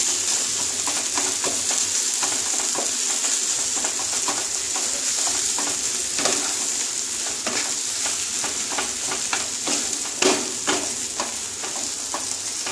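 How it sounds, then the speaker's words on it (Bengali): Onion and potato frying in a kadai over low gas for aloo bharta, a steady close sizzle with repeated scraping clicks of stirring throughout, no talk. "আস্তে আস্তে এটা নাড়তে হবে, পেঁয়াজটা আর আলুটা মিশে যাবে।"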